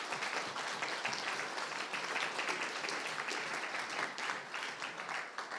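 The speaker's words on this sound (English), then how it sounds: "So a big applause, please," Audience applause for the speakers at a Davos conference event on trust, dense and even clapping from a large room, sustained at a steady moderate level without pause.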